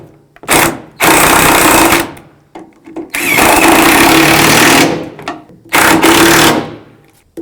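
Power tool driving bolts into a 1999-2007 GMC Sierra tailgate hinge, three loud close bursts of whirring separated by brief pauses, with no talk.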